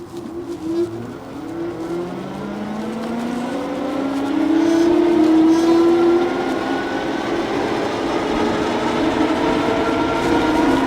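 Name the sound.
LAZARA RS1 electric bike riding downhill on twist throttle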